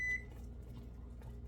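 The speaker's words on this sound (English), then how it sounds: "I set the timer for 3 minutes, so the timer's about to go off" A kitchen timer beeps once with a short, clear electronic tone at the very start, followed by quiet room noise.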